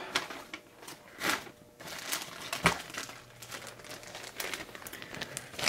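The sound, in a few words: crinkling large plastic bag of lower receiver build kit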